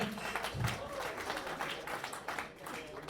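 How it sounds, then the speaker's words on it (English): Audience at a charity launch event interview applauds with steady, faint clapping from a crowd throughout, heard from a distance in a room. "Give a round of applause."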